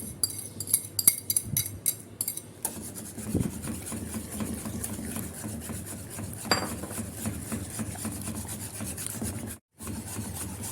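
Pudding mixture in a pot is stirred continuously after eggs go in, giving soft, steady rubbing and scraping with scattered light clinks. The sounds are quiet and close, with no talking.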